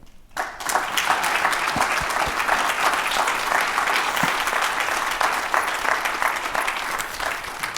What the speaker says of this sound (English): give one more round of applause for our presenters here and to all the other presenters and moderators